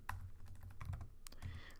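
Quiet, rapid typing on a computer keyboard: irregular clusters of soft key clicks, heard close with no talking.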